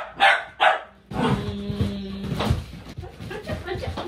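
Two dogs meet and bark in a few sharp, loud barks up close, then yip and growl, while people talk over them.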